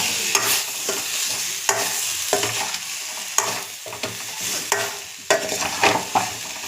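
Pumpkin charu being stirred in a pan after salt is added, repeated scraping strokes of a spoon at a steady rhythm over a soft ongoing sizzle, close and fairly loud.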